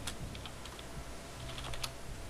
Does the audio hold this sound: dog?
no